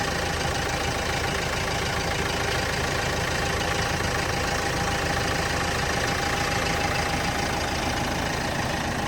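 A 2012 Renault Master van's 2.3 diesel engine idles steadily nearby, a continuous rough rumble with a faint knocking texture throughout.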